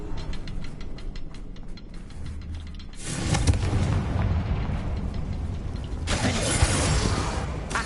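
A Confringo blasting spell goes off in Hogwarts Legacy, a loud fiery burst from a wand that swells into a roaring, crackling blast and then flares again near the end, all without speech.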